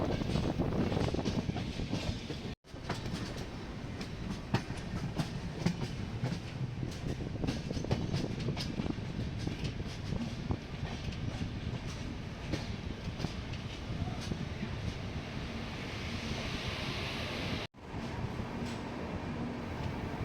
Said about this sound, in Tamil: நீலகிரி எக்ஸ்பிரஸ் ஷெட்டுக்கு போகுதுங்க.